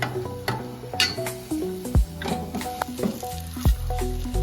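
Food with a cracked quail egg gets stirred in a sizzling pan, the spoon scraping and clinking in uneven strokes over a constant close fry, with a couple of sharp knocks against the pan.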